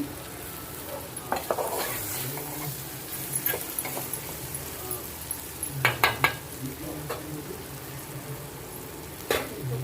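An okra fry with spices cooks in a pan under a soft sizzle while a utensil stirs and scrapes it, clinking against the pan in scattered bursts.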